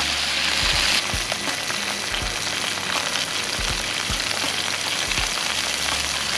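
Fresh clams cook in a pan outdoors on a mountain peak, a dense, even sizzle under soft, periodic thuds and shuffles as they are mixed.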